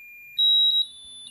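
A smoke alarm, set off by smoke from birthday cake candles, lets out one shrill, piercing beep at close range in a quiet room.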